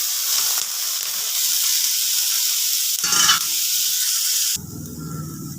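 Chopped capsicum sizzles with lightly fried onions in a hot pan, a loud steady hiss broken by a brief burst of stirring, then a quieter, softer sizzle near the end.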